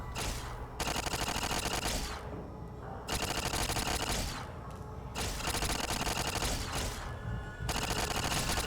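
A robot in Fallout New Vegas fires bursts of rapid automatic gunfire, four long volleys separated by short pauses, loud and fairly close.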